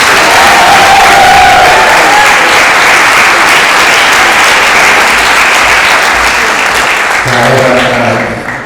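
Sustained loud applause from an audience at an awards ceremony for a band, steady and dense throughout, with a few voices briefly audible over the clapping before it starts to fade at the end.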